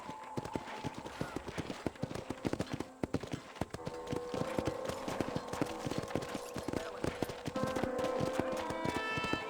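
Horse hooves clip-clopping in the video game Red Dead Redemption, a steady run of close, loud hoof strikes over a busy ambient game background with no talk.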